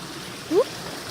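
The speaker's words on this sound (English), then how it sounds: "we're crossing this creek over and over again the whole way up" A creek flows steadily along a hiking trail between Idyllwild and Big Bear Lake, its soft, even wash filling the moment while a single brief rising chirp cuts through near the middle.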